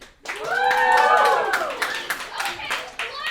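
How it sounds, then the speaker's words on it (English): Audience clapping at a comedy show, sharp irregular hand claps mixed with whoops and cheering voices that rise early then thin out into scattered claps. "a lot of enthusiasm and some fun clapping too"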